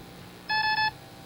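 An electronic game show buzzer on the 1975 ABC program Password sounds once: a single bright, steady electronic tone lasting under half a second, heard close and alone against a quiet studio background.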